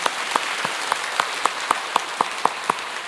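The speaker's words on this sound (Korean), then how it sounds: "믿으시는 분 박수로 환영하겠습니다" Slow rhythmic clapping from a church congregation at a Sunday service, about a dozen evenly spaced claps in a steady beat, fairly quiet and with no talking over it.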